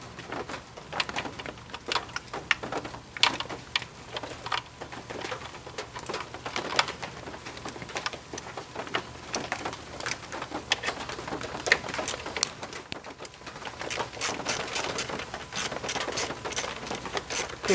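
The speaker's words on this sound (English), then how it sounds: "It started to rain here," Steady patter of raindrops with irregular taps and drips, fairly close, with occasional bird calls in the background.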